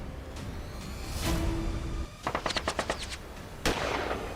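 Gunfire sound effect: a loud burst of rapid shots in a quick string of about six cracks, followed by a single sharp report, all set against a low, steady background rumble.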